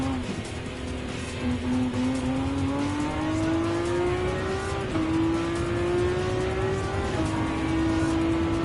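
A Fiat 500F racing in Gran Turismo 7 revs hard and loud, its engine pitch climbing steadily through each gear before dropping at two upshifts and rising again, with faint tire noise underneath.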